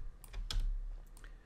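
Computer keyboard keys pressed during 3D modeling work, a handful of quick close clicks in a short irregular burst against a quiet background.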